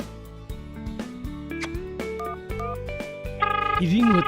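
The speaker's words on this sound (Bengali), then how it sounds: "রিং হচ্ছে, আমি স্পিকারে দিচ্ছি।" A phone rings on speaker in an animated cartoon: a bright electronic ringtone of stepped melodic tones that grows louder toward the end, where a voice briefly comes in.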